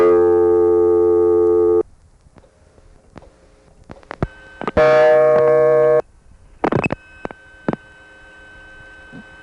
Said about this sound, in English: the Bell of Pennsylvania DA operator hears the class of service tone and immediately releases